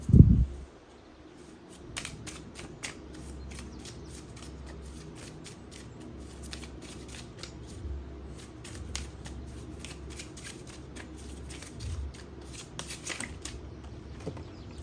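A deck of tarot cards shuffled by hand, with a sharp knock at the start, then a long run of soft rapid riffling and flicking, close and quiet, in bursts.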